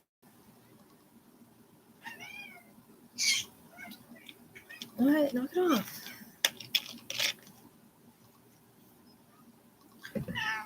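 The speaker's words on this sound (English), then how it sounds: "She's my little spiritual kitty." A pet cat named Astra makes short mewing calls and chirps close by, scattered between a woman's speech and some handling noises.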